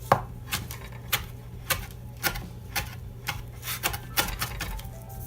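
A knife chops food on a cutting board in a series of sharp, fairly regular thuds, about two per second, close and clear over a faint background hum.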